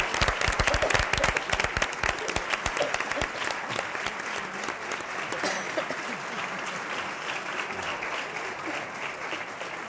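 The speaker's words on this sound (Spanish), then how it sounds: "Un aplauso." A studio audience at a 1982 TVE debate show breaks into applause: crisp, fast, closely spaced claps at first, then settling into a steadier, slightly softer wash of clapping that continues to the end.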